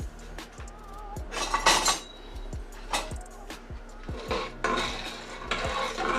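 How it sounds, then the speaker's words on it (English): A spoon stirs split green pea soup in a Power Pressure Cooker XL pot, giving repeated scraping clinks and knocks against the metal in an irregular rhythm, close up and moderately loud, with no talking. "Alright, I'm going to stir that up."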